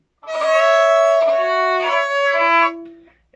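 A single bowed violin plays a few sustained notes of Suzuki's "Lightly Row," with audible bumps and uneven transitions where poorly coordinated bow changes occur, then fades out.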